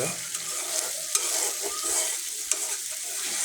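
Eggs fry and sizzle in a pan while being stirred for a Bengali dry egg curry, a steady close hiss with a few sharp scraping clicks of the utensil, no speech.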